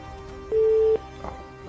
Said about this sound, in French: Troisième sonnerie, c'est fou.